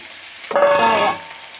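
Bottle gourd pieces drop into hot oil with browned onions and green chillies, setting off a sudden loud sizzle that crackles strongly for about half a second before dying back to a quiet hiss.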